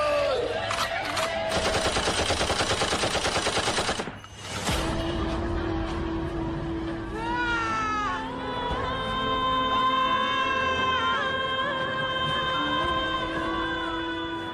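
Machine-gun fire in a dance performance soundtrack, a rapid dense burst of shots for several seconds, then a brief cut to near silence followed by swelling crowd-like shouts and music.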